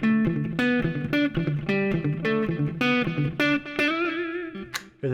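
An electric guitar played through distortion runs a hybrid picking exercise, with quick bright picked notes in a repeating pattern, close and clear, ending on a sustained bent note with no talking.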